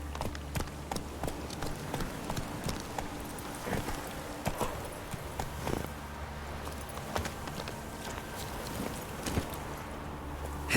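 Hooves of the horse Roach clip-clopping in The Witcher 3: Wild Hunt, a steady trotting rhythm of crisp hoof strikes over a low ambient rumble, moderately quiet, with no talking.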